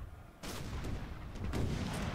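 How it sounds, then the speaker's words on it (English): Artillery in Napoleon Total War fires round shot in two loud booming volleys about a second apart, each followed by a rumbling tail of distant cannon and musket fire. "You are still firing round shot."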